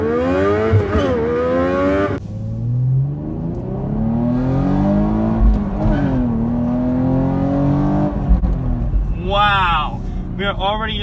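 A 2018 Chevrolet Camaro V6 1LE engine revs up loudly under hard acceleration, pitch climbing steadily through the gears to a high scream near 5,000 rpm, with someone talking over it inside the cabin.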